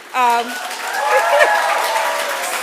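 A crowd at a design school ceremony cheering and clapping, opening with a voice sounding out, then a sustained swell of cheers and applause that holds steady to the end.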